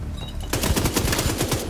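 An Uzi in The Division 2 fires a loud, rapid burst of automatic gunfire that starts abruptly after a short quiet moment and keeps rattling to the end.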